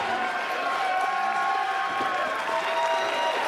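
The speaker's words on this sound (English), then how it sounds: "But some rallying applause as the CHIKARA finally sees Fire Ant" A wrestling crowd at a CHIKARA show breaks into steady, rallying applause, a dense wash of clapping and cheering that holds at an even level throughout.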